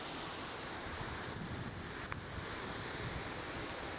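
Steady broadband rushing of water filling a flooded street after heavy rain, a continuous wash with wind buffeting the microphone and no voices.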